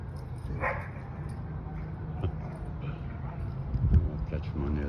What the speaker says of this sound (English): My dogs are gonna have a fight right now.